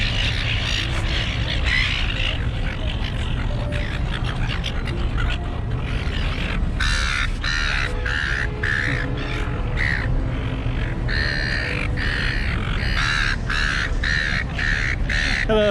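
Crows cawing in a busy chorus at The Rocks in Sydney, harsh calls overlapping near and far against steady outdoor city noise, with no talking.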